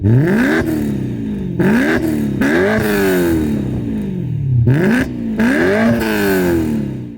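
BMW E92 M3 with its naturally aspirated 4-litre S65 V8 revving hard, several sharp climbs in pitch to a screaming peak followed by quick drops, close and loud with no talk.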